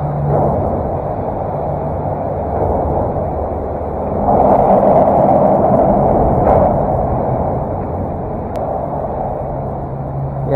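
Loud, steady roar of traffic noise heard from underneath a road bridge in Sarasota, a dense continuous rumble with a swell in the middle, no voices.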